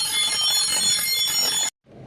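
A fire alarm system's sounder shrills steadily at close range for under two seconds with a high electronic tone, then cuts off abruptly, leaving faint background noise.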